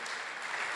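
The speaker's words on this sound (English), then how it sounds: "Please give them a big round of applause" Brief, fairly faint applause rises from the audience at a startup demo day, an even patter of many hands lasting under a second.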